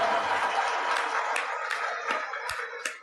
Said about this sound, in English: let's give brother Alex a round of applause